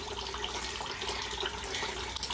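A tap in a laundry area runs with weak water pressure, producing a steady, close hiss and trickle throughout without pauses.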